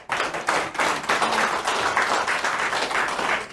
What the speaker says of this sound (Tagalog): Mahina kayong bumabalakpak!